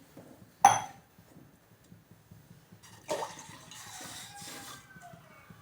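Two glasses of water poured into a pot on a lit gas stove to start a homemade herbal cold remedy: a sharp clink, then a steady, close splashing pour for the last few seconds.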